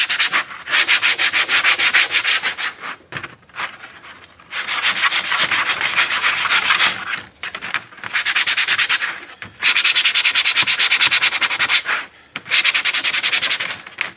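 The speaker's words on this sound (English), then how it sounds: "the bottom, I just take some heavy sandpaper so the silicone has something to stick to. Really scuff it up." Heavy sandpaper scuffing the underside of a homemade vent part for a Ski-Doo Rev 800 snowmobile, loud close rasping strokes in long bursts separated by brief pauses, with no talking.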